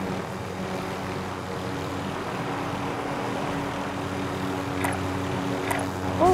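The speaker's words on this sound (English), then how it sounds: "This helicopter might hit me." A helicopter in Call of Duty: Modern Warfare, in a Plunder match on Caldera, drones as a steady engine and rotor hum throughout, with a few brief sharp game effects near the end and no speech.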